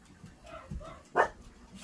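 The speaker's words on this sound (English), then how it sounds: "You better stop barking." A dog on a family farm lets out a single sharp bark after a few soft whines and yips, close by and brief, in an otherwise quiet room.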